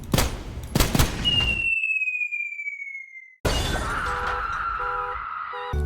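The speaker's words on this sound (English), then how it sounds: "You then proceed to immediately shoot a dead person that is hanging from the ceiling." First gun in the game Sulfur fired twice at a dead body hanging from the ceiling, giving two sharp, loud shots, followed by a gliding tone and a later noisy burst with clinking.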